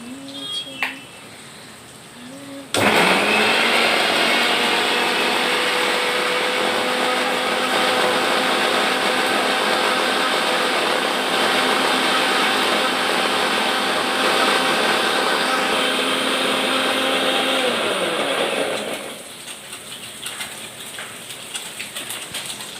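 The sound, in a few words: mixer grinder grinding poppy seeds into paste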